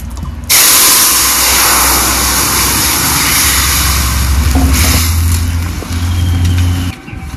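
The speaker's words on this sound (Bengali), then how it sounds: "ফোড়নের উপরে ঝোল ঢেলে দেব।" Broth for a singi fish and green banana curry is poured onto hot oil tempered with radhuni and bay leaves, bursting into a loud, close, roaring sizzle that hisses on steadily and then eases slightly.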